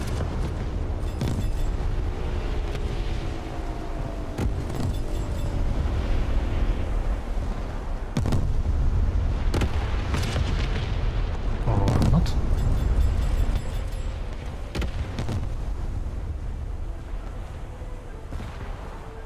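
Heavy booms and blasts hit a ship in a naval video game, a dense, loud barrage of repeated explosions and gunfire sharp thuds over a constant low rumble.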